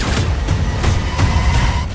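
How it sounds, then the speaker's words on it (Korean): An explosion from the Arcane season 2 trailer rolls out as a dense, loud, rumbling boom with several sharper cracks layered through it, lasting a couple of seconds, with no voices. "엄청난 폭발과 코피 터진 징크스"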